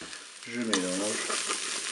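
Chopped Paris mushrooms stirred as they fry in a Cookeo multicooker, a close steady sizzle with a scrape of the spoon and a brief tonal squeak partway through.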